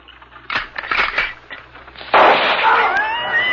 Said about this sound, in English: they heard the gunfire some distance ahead